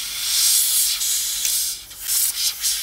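A compressed air can sprayed to clean dust from a PC, a close, loud continuous hiss in a few sustained bursts with brief dips between them.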